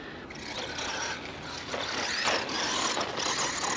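A T2M Puncher 2 radio-controlled car with a basic 540 electric motor runs on a club race circuit in Béziers, giving a steady, fairly loud whine that rises and falls as it accelerates and passes, with no talk over it.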